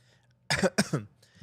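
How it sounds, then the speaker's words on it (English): Two sharp, loud coughs close to the microphone, followed by a faint breathy throat sound. "Sorry for coughing in the mic."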